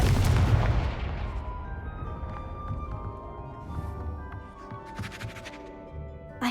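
Confringo fire blast spell cast in the Hogwarts Legacy video game: a loud opening boom that decays into a lingering rumble, followed by quieter game effects and chimes, with no talk over it.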